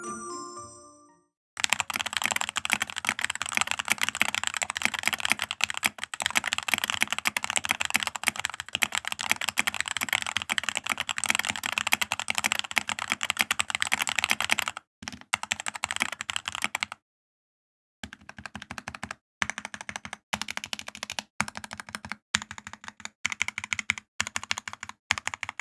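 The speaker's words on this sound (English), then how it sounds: "So let's go ahead and do a typing test again." Rapid continuous typing on a modded Amazon mechanical keyboard, close and clear clacking keystrokes in long bursts, with brief pauses and sparser separate key presses toward the end.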